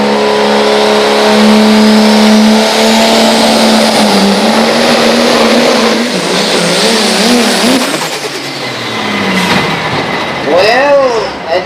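A diesel truck revs hard at a truck pull event, its loud engine droning steadily and then climbing in pitch as it winds up, with the note wavering and surging near the end and voices faintly mixed in.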